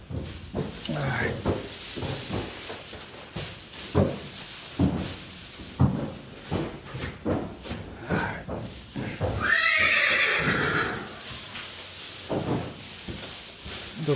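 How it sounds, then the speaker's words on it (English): Horses being led indoors to new stalls whinny, with one loud neigh near the middle, over intermittent hoof clops and rustling, while a person speaks quietly nearby. "bringing the horses inside right now into the new stalls in here"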